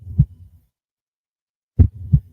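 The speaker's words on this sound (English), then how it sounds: "Can you hear the heartbeat?" A heartbeat sound effect played on a livestream gives two pairs of deep, soft thumps, lub-dub, separated by a second and a half of silence.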